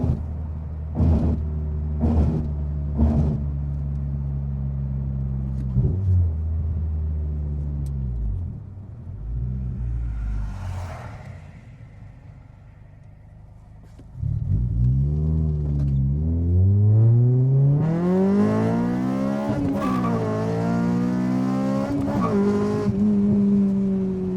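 A modified Honda Civic Type R FN2 engine rumbles and revs in short bursts, then climbs through several loud, rising revs with a raspy exhaust note, close by and without talk.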